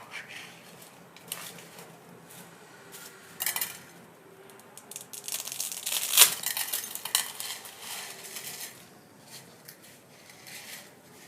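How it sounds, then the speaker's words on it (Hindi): Dry spaghetti snaps by hand in a kitchen, with a series of sharp, brittle cracks and crunches that bunch together in the middle, set against quiet room tone. "सबसे पहले ये जो स्पैगेटी है इसे हमने 2 हिस्सों में तोड़ देना है"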